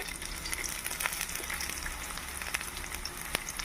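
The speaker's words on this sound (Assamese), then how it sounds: "তেলকণ গৰম হ'লত মই কেইটামান জিৰা জিৰা গুটি দি দিছোঁ পিঁয়াজ দিছোঁ" Cumin seeds and chopped onion sizzling in hot oil in a pan: a steady, even frying hiss with small crackling pops throughout, close and moderately quiet, with no talk.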